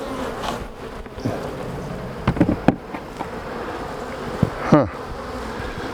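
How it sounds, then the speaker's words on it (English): Honey bees buzz steadily inside a post-swarm colony hive during an inspection, a continuous close drone with a few sharper passes near the listener; a brief muttered voice sounds once. "There are not a lot of bees in here."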